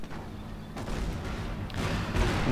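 Rocket artillery barrage from a Calliope launcher in the Company of Heroes strategy game, a dense continuous rumble of overlapping blasts and crackling impacts that swells louder toward the end.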